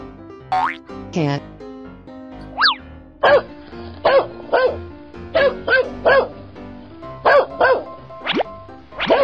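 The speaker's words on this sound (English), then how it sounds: "Dog." A cartoon dog sound effect from a children's animal painting game, with short barks repeated in a bouncy rhythm among springy boing effects and whistle-like sweeps. The sounds are close and loud, come in clusters of two or three, and have short gaps between them.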